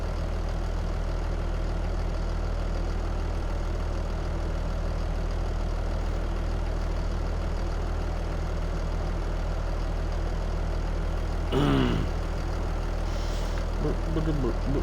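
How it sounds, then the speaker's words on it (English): A tractor engine idles in a video game with a steady, unbroken low drone that holds for the whole stretch, broken only by a brief click near the end. "I like the way this tractor sounds."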